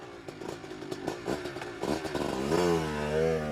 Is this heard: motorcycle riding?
yes